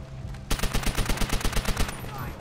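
Rapid automatic gunfire in the Call of Duty World at War game, a sharp burst of about fifteen evenly spaced shots in quick rhythm that starts abruptly and stops after under two seconds, loud and close.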